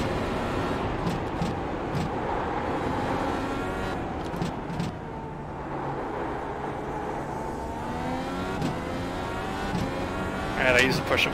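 An Indy race car engine at Road Atlanta drones steadily with shifting pitch as the throttle rises and eases, loud and close throughout, with a voice talking over it intermittently.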